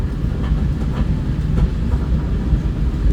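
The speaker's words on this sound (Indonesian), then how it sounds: "Kereta ini akan menempuh jarak 1031 km untuk sampai ke stasiun Ketapang Banyuwangi" The KA Blambangan passenger train rumbles loudly along the rails, a dense continuous roar with faint rhythmic clatter from the carriage wheels.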